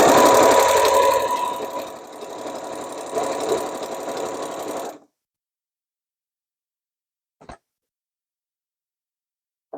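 Sewing machine stitching a denim tote bag, triple-stitching over webbing at a seam, runs loud and steady for about five seconds, then stops, leaving silence broken by two brief clicks.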